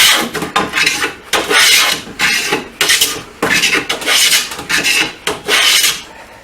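Hand tool shaving a hard piece of white oak, a series of about ten rhythmic, rasping strokes close up, each a loud scraping burst with brief gaps between.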